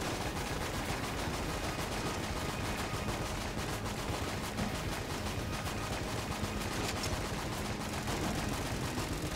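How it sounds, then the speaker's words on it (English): Loud, relentless bazooka explosions and gunfire in the video game Enter the Gungeon, a dense unbroken barrage of rapid blasts filling the whole stretch with no letup. "Okay, it's still exploding for some reason."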